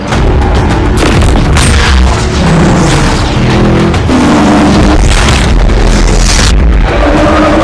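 A weapon fires in a Transformers: Age of Extinction action scene, followed by loud, dense booming explosions and a rolling blast of debris that fills the whole stretch without pause.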